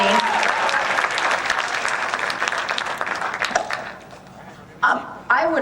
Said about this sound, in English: So give DJ a huge round of applause for coming through and joining us this evening.